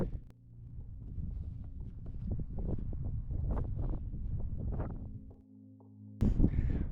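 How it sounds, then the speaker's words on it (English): Strong wind on a Grand Canyon summit roars and buffets against the microphone in continuous gusts, ending with a sharp loud blast. "It's so windy, I felt like I was going to blow off"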